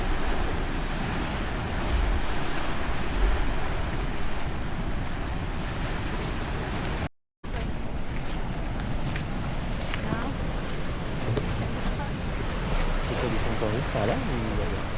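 Ocean waves crash and roll at Cape Meares on the Oregon coast, a continuous loud surf roar with wind buffeting the microphone and people talking over it, briefly cut out midway.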